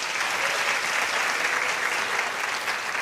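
An audience at a 2023 Teacher of the Year ceremony applauds in a dense, steady wash of clapping that holds at an even level throughout, with no voices standing out.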